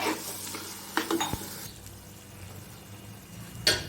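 Brinjal bharta being stirred and mixed in a pan, a few short scraping and clinking strokes of a utensil against the pan with a soft sizzle underneath, close and moderately quiet, no talking.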